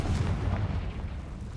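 A Confringo spell explodes in a video game as a short, low, rumbling boom that thuds heavily at first and then fades into a softer, muffled rumble.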